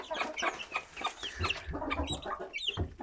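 A three-year-old Aseel stud rooster clucks in a series of close, short calls set in a new coop.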